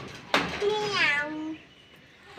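A voice imitates a cat, giving one drawn-out, wavering meow that rises and falls, close and fairly loud, followed by quiet.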